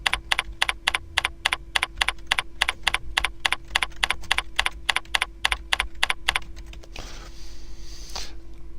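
Steady, rapid typing on a computer keyboard while entering a title in Word 2007, loud close key taps in an even rhythm for most of the stretch, ending in a brief hiss without keystrokes.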